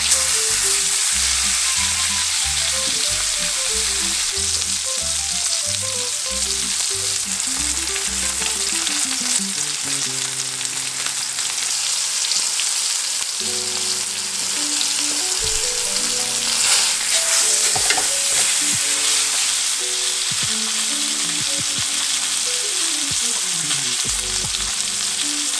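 A thick steak searing in a hot pan gives a constant, close, loud sizzle and crackle that runs on unbroken, over a steady musical backing.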